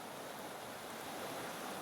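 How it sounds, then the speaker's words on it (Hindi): A calmly flowing river gives a steady, broadband rushing wash, even and unbroken for the short stretch, fairly faint and without voices or other distinct events. "इस बार यह नदी बिल्कुल शांत रूप से बह रही है।"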